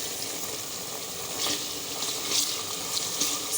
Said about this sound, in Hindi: इसको थोड़ा सा भूनेंगे हम जल्दी तेज़ आंच पे।